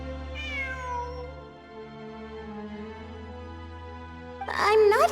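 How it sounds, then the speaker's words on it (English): A cat meows in Genshin Impact, a drawn-out falling meow near the start over a layered ambient music bed, then a sharper, louder burst of cat cries close up at the end. "It really is a cat."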